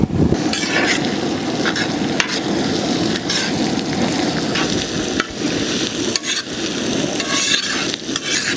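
Chopped green chili, garlic and ginger fry in a pan for a giant clam roast: a loud, close sizzle with repeated spatula scrapes and taps over a steady crackle.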